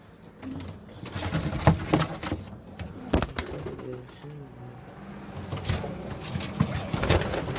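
Pigeons coo softly in a loft, repeated low throaty calls close by with rustling and some background noise.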